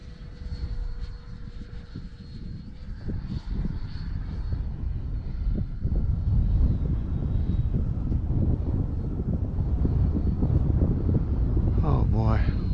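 A steady roaring engine drone with wind noise from a Freewing L-39 Albatros RC model jet flying nearby in the evening, while a voice speaks briefly near the end.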